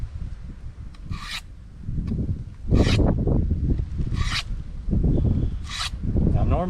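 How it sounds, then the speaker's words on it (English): A knife blade is drawn across a sharpening surface outdoors in the jungle. Four rough, rasping strokes come at a steady pace close by, with low rustling between them. "you've got your blade as even as possible when you're sharpening it"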